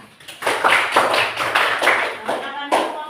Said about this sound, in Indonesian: Berikan tepuk tangan untuk kelompok A.